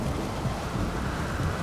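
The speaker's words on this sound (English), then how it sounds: "Nighttime, howling wind and rain," Howling wind and steady rain at night high up in The Witcher 3 video game, forming a dense, continuous roar that fills the short stretch without pause or talk.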